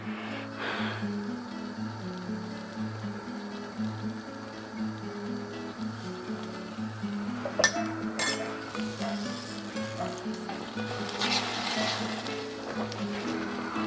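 A spoon stirs a teaspoon of vanilla into homemade caramel, with a few sharp metallic clinks against the pot around the middle and soft scraping over a steady low background hum.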